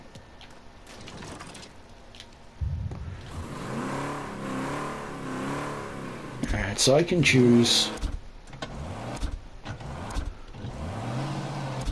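A car engine in the video game Mafia Definitive Edition revs and accelerates, rising and falling under someone talking, with a few mechanical clunks mid-clip.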